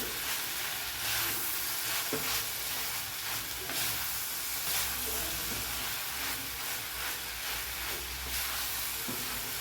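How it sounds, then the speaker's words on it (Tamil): Grated coconut sautés with chopped broad beans (avarakkai) in a hot pan, giving a dense, continuous sizzle and hiss with occasional stirring scrapes, close and even throughout with no talking. "இந்தளவுக்கு நல்லா வதக்கி விட்டுக்கணும் தேங்காயை போட்டு"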